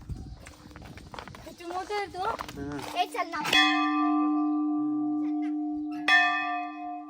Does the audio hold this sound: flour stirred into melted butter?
no